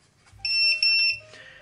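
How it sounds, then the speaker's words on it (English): An electronic carp-fishing bite alarm gives two short, shrill beeps in quick succession, clear and close in an otherwise quiet setting. "a fish pulls that line, the bite alarm will sound"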